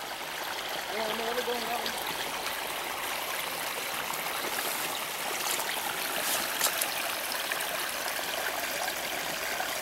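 Water runs out in a steady outdoor trickling stream, a constant close rushing wash that holds throughout, with a brief voice early on.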